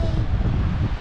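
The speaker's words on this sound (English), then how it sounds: "It's a bit windy." Wind blowing at a beach in Morocco gives a steady, close, low rumbling buffet against the microphone, holding throughout without a break.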